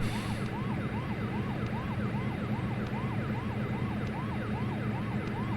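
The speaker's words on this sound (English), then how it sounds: "Hopefully we can get out of here and get rid of that ambulance sound." An ambulance siren at an airport in the Prepar3D flight simulator, a steady repeating wail cycling about twice per second, loud and continuous throughout with a low engine rumble underneath.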